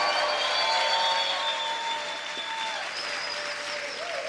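Church congregation clapping and cheering loudly for a few seconds, a dense sustained wash of applause that eases slightly toward the end, with no speech over it.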